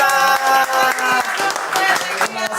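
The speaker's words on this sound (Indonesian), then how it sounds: "Terima kasih tepuk tangan buat Danila." Audience clapping for a singer at a live show, sparse and uneven hand claps mixed under music and a speaking voice, moderately loud.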